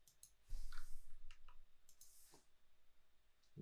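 Computer mouse clicks during 3D character rigging work, a few sharp ticks spaced through a quiet room with a faint background hum.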